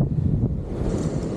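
Strong wind buffeting a microphone outdoors while fishing, a continuous loud low rumble with gusty fluctuations and no talk.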